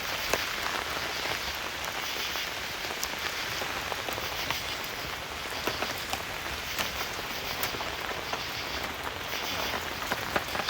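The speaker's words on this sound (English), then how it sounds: "As you all can see, it is now raining." Heavy rain falls steadily in a remote foggy forest, a dense constant patter of drops striking surfaces nearby, with scattered louder individual drips and no voices.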